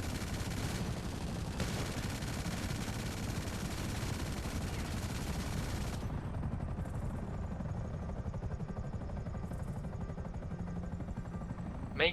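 Rapid machine-gun fire from a Buzzard attack helicopter in GTA 5 Online, a dense continuous stream of shots over the whirring rotor for about six seconds, then the helicopter drone continues alone.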